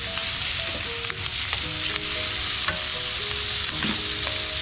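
Onion fries in a hot pan with a loud, steady sizzle, stirred continuously so the spatula scrapes and taps faintly through the constant crackle.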